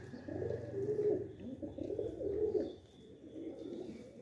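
Several loft pigeons coo in rising and falling phrases, three or four swelling calls close by, with a steady low murmur between them and no talk.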